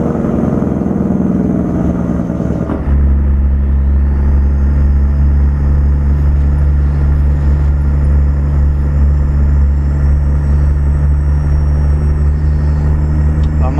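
An International 9400 truck rolls downhill fully loaded on a Colombian mountain road, its diesel engine droning in a deep, steady rumble after a brief shift, loud and constant throughout.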